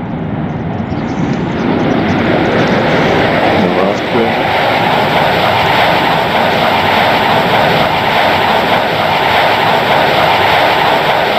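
A fighter jet in the flight game Strike Fighters 2 roars loud and continuous on takeoff, a broad, steady engine rumble with a rising whine, while radio chatter is heard briefly near the start.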